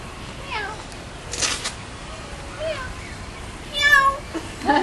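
A bird at the Honolulu Zoo imitates a cat's meow, giving a few short, faint mewing calls amid soft background noise, with brief human chatter nearby.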